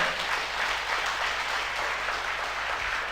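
An audience at a company income-plan meeting applauds, a steady, fairly faint wash of clapping with no voices over it.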